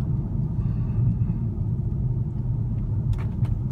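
A 2012 Mercedes-Benz E350 Cabriolet rolling over road bumps, a steady low rumble of tyres and suspension heard from inside the cabin, with a couple of faint knocks near the end.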